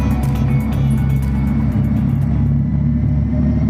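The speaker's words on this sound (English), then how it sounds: "The motors run for the very first time on the chassis dynamometer." Electric motors of an Audi e-tron GT running on a chassis dynamometer in a production plant, a loud steady low rumble with a sustained hum, continuous and close, with no voices.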